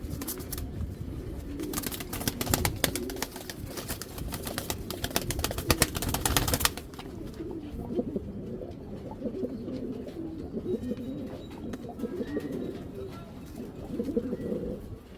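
Racing pigeons in a cage coo in low, repeated throaty bursts close by, with rustling and shuffling among them and someone talking over the birds.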